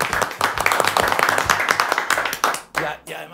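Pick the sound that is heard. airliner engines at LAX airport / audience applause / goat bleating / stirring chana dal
audience applause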